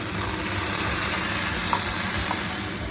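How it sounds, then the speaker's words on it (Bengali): Ginger garlic paste sizzling in hot mustard oil, a dense, even crackling hiss close up with a few brief pops, steady throughout and with no voices. "তো আমি এবার এখানে অ্যাড করছি আদা রসুন বাটা।"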